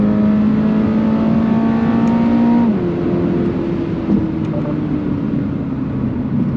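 A 2022 Subaru BRZ sports car's flat-four engine revs loud and close, its tone climbing steadily toward the 7,500 RPM redline, then dropping sharply as it shifts and settles into a lower, steadier drone.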